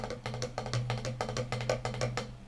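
A rapid snare drum roll played unevenly, the strokes bunching and spacing irregularly rather than flowing smoothly, heard fairly quietly.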